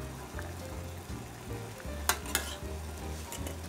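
Carrots boil in a pot of water on a stove while a nursery-school lunch of chirashi sushi is prepared, giving a steady bubbling sizzle over a low hum, with two sharp clinks near the end.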